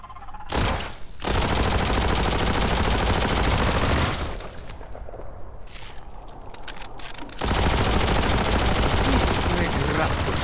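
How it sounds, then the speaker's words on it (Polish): Machine gun fire in the action game Biomutant: long sustained bursts of rapid automatic shots, loud and dense, broken by a short quieter gap before the firing resumes. "Istny grad pocisków."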